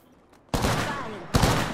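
Two loud bursts of automatic gunfire in the shooter game Apex Legends, a heavy sustained volley followed by a second sharp burst, close and dense after a quiet start.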